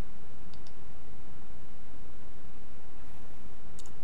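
Two faint computer mouse clicks, one early and a double click near the end, stand out over a steady broadband hiss while a surface is selected in CAD software.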